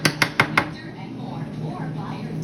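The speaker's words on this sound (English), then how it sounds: "I'm gonna take the knife, and I'm gonna cut it" A knife cuts through a cooked crispy chicken ball on a hard surface with four quick, loud chopping knocks, then a quieter stretch with a voice talking.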